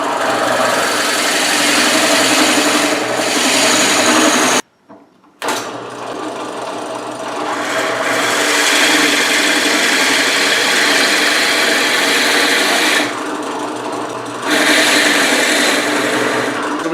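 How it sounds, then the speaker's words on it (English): An electric drill with a depth stop bores holes about 1.5 inches deep into the ends of wooden table pieces, a steady loud motor whine that stops briefly and then runs continuously again. "I'm going to start drilling"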